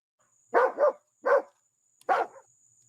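A dog barks three times in a quiet indoor room: a close double bark, a pause, a single bark, then another after a short gap, each one short and loud with a faint steady electronic tone beneath.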